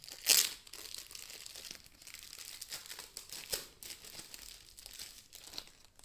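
A new plastic case for an Oppo A37 phone being unwrapped up close: soft crinkling and tearing of the packaging, with one sharp crackle at the start and then quieter rustles and crunches.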